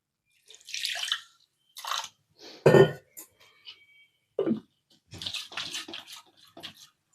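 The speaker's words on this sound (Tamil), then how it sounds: "இப்போ மிக்சி சார அலம்பி கொஞ்சமாக தண்ணி ஆட் பண்ணிடலாம்" Short bursts of splashing water come in several separate pours and rinses as water is poured into a mixer-grinder jar while making mint and coriander chutney, close and intermittent with quiet gaps between.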